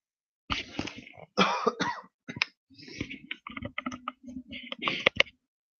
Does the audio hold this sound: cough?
yes